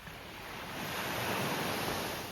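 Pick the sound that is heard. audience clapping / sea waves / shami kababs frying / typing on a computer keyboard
sea waves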